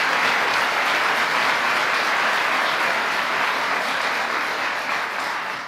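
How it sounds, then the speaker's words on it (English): An audience at a political speech in Michigan gives a long, dense round of applause for Danny Phillips, steady and loud throughout and tapering slightly at the very end. "I hope all of us will give a big round of applause and a prayer to Danny Phillips."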